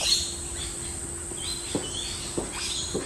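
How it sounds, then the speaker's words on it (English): Faint bird chirps sound in the distance over a quiet outdoor background in Buderim on Australia's Sunshine Coast, with a few short calls spaced out across the moment. "you can hear the birds"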